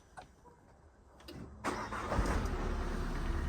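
Budget Italian diesel car starting at minus seven degrees after the glow plugs cycle: a few clicks, then the engine cranks and catches into a steady, rumbling idle, close and fairly loud.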